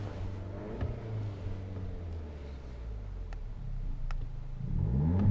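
A Skoda Kodiaq engine idles with a low steady hum, then revs up in a rising surge near the end, heard from close by with no talk.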